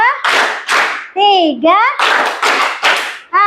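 A classroom of pupils claps in unison to a counted pattern, loud, sharp bursts at a steady pace, while a teacher's voice calls out between the claps.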